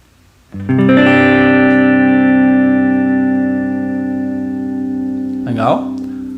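Electric guitar with reverb switched on, played for worship tone: a struck chord rings out loud and sustained with a reverberant tail, followed by a brief sliding note near the end, no talking.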